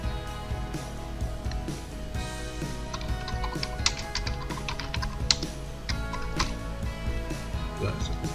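Computer keyboard keys clack in quick irregular taps while a PowerPoint slide is edited, close and steady over a low background hum.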